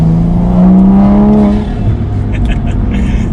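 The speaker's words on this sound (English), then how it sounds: "We'll do a quick acceleration where you can hear it letting off." An A90 Toyota Supra with an Armaspeed carbon fiber air intake revs up hard in a rising, loud, close engine tone. The driver lets off after about a second and a half, and the engine drops to a rumbling idle.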